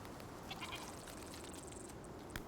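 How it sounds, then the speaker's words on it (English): A goat bleats in the survival video game Icarus, several short faint wavering calls over quiet background ambience, with no talking. "Did I just hear a goat?"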